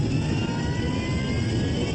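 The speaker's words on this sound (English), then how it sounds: "The DC-10 with 67 people aboard roars toward the runway at almost 300" Engines of a DC-10 jet airliner carrying 67 people roar loudly and steadily as it approaches the runway at high speed on landing.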